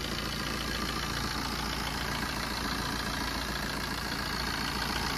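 A Fiat Punto with about 118,000 km and a head gasket fault idles steadily nearby, giving a constant, even engine drone with no revving or speech.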